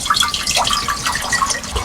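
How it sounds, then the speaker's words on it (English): Water pours into a cooking pot up close, a loud, bubbly stream with gurgling, splashing tones throughout. "we're just gonna put some water in it"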